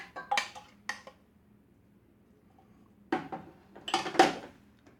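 A spoon scrapes and clinks as food processor mixture is spooned into a cheese mixture for a chipotle-pimento cheese dip, in two short bursts of close clatter separated by a quiet pause.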